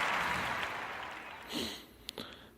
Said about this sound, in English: my audience wants to give me an applause